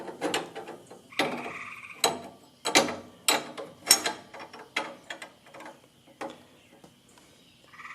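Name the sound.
wrench turning pipe fittings on a truck engine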